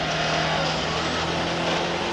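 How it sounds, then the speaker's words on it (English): A rally car in the 2004 Rally Australia near Perth, its engine running rough on three cylinders after a failure, gives a loud, continuous droning roar with a steady low hum and no talk. "It's down on 3 cylinders and really bad knocking noise."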